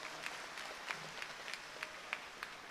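A graduation audience applauds its graduates with steady, distant clapping that stays even and quiet for the full length.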